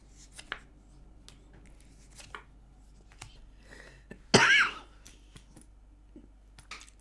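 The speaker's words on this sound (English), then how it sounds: "I've got my granddaughter's cough here" A single sharp, harsh cough bursts out amid near silence, close by, with a few faint clicks and small noises around it.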